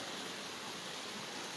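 Water splashes and runs steadily as a woman washes her feet, having walked five kilometres to reach water during a shortage. The sound is a constant, close, noisy wash with no pauses.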